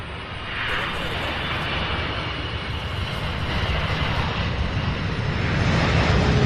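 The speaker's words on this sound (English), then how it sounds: "Incredible landing as usual. Beautiful 747." A Boeing 747 landing at Louisville International Airport, its engine roar loud and steady and swelling slightly as it nears, with a voice talking over it.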